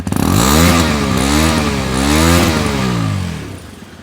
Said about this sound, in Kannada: ಎಕ್ಸಾಸ್ಟ್ ನೋಡಿ ಯಾವ ರೀತಿ ನೋಟ್ ಕೇಳಿಸ್ತದೆ